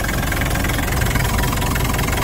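A 1990 Land Rover 90 engine idles steadily and smoothly, a close, continuous low rumble with even mechanical texture and no pauses or revving.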